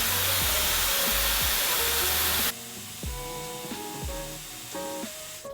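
A Dyson Airwrap hair styler blows on high heat and high speed, a loud, even rushing roar that cuts off abruptly about halfway through, leaving light background music.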